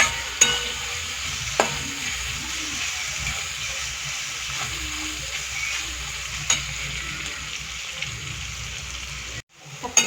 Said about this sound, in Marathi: मी कढीपत्ता पण सगळा टाकलेला आहे आणि हे मी चांगलं फ्राय करून घेणार आहे